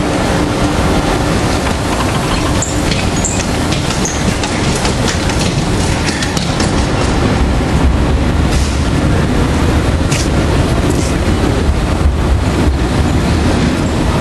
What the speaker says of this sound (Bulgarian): това е влака, с който тръгвам за Париж